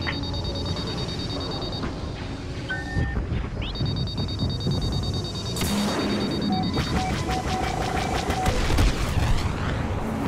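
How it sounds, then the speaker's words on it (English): A homing missile inbound in Star Wars Battlefront, amid dense battle noise: high electronic warning tones and beeps over a constant rumble, a sharp blast around the middle, then rapid rattling fire and more alert tones. "Homing missile inbound!"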